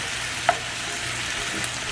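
Shell-on Jamaican pepper shrimp fry and sizzle in a pan while being stirred, a steady close crackle with one sharp scrape of the spoon early on, no voices.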